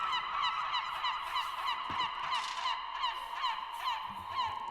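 Gulls call in a steady chorus of repeated honking cries, dense and continuous throughout, with no voices over them.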